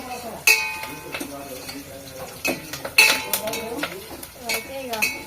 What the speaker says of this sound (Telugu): అయితే ఇక లైట్గా ఫ్రై అయిపోవాలన్నమాట